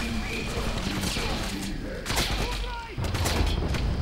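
Gunfire in the video game Wolfenstein (2009), a rapid fusillade of shots and thuds mixed with game noise, moderately loud, with a heavier burst near the end.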